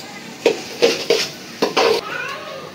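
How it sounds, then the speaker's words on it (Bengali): A spoon scrapes and stirs raw rice frying dry in a pan in a village kitchen, about six quick, separate scraping strokes with a soft sizzle underneath, close and clear. "চালটা আমার ভাজা হয়ে গেছে, একদম ঝরঝরা করে এই যে ভেজে নিছি"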